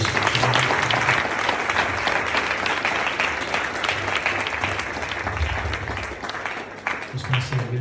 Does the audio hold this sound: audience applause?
yes